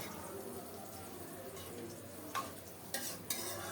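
Vegetables with sliced green chilies and a spoon of ghee being stirred in a pan, a low steady frying hiss with a few sharp scraping clinks of the spoon near the end.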